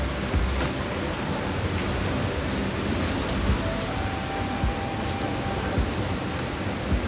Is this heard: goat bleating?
no